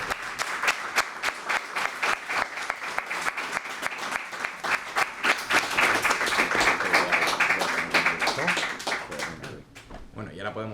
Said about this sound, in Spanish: Aplauso, ¿no?